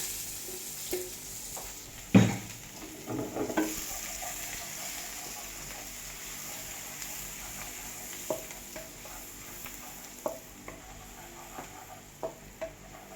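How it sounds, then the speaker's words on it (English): Garlic, celery and onions sizzle in hot oil in a pan, a soft, steady crackle with scattered stirring clatters and one louder knock near the start, no voices over it. "toss in garlic a little bit. You toss in the celery and the onions in there."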